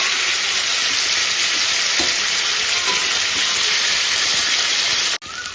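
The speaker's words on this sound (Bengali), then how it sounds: "পটলগুলো কিন্তু এইভাবেই ভাজবে," Pointed gourd (potol) frying in a pan of oil gives a loud, continuous close sizzle with faint stirring taps, cutting off briefly just before the end.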